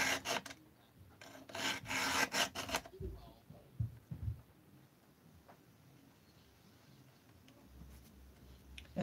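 A hand file sharpening the teeth of a 28-inch chainsaw chain, a rapid run of rasping strokes at the start followed by a few scattered scrapes and quiet handling noises.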